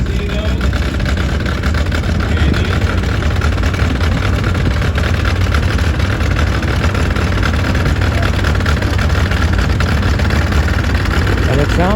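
A 98-year-old Ford truck engine idles with a steady loud mechanical chug and rattle, continuous and close for the whole stretch.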